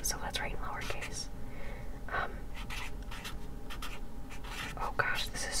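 A Sharpie marker scratches and squeaks across paper in lowercase strokes, close and soft, with whispering heard over the intermittent writing.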